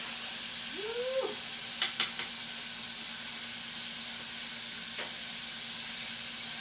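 Pieces of food fry in a skillet with a steady, bright sizzling hiss throughout, broken by a short rising meow-like cry near the start and a few sharp clicks.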